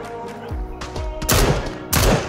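Enemy gunfire in PUBG: a few sharp shots spaced under a second apart, followed by two louder, broader blasts that ring out, fairly close, with no talk over them.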